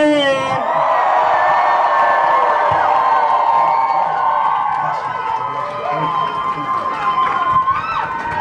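A rally crowd in Portland protesting over Ferguson screams and cheers in a loud, sustained roar, with shouts and whoops rising over it throughout.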